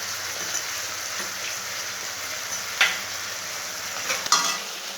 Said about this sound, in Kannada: ಅದು ಇದೀಗ ಟೊಮೆಟೊ ಫ್ರೈ ಆಗಿದೆ.